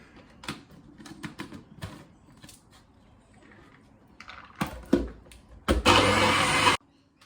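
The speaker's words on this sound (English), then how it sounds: "we just put it in like a high-speed blender, like I've got a NutriBullet here, and blend him up" A NutriBullet high-speed blender whirs loudly for about a second while blending vegan pesto, a sudden dense roar that cuts off abruptly after scattered clicks and handling knocks around the kitchen.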